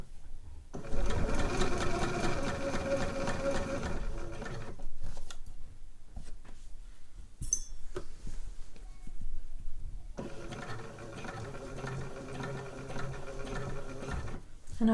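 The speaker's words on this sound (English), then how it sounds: "So I'll just sew right on the edge there, and I will use a stitch length of 3." A sewing machine stitches along the edge of a trouser waistband at stitch length 3, running in two steady whirring bursts separated by a pause with a brief click, close and fairly loud.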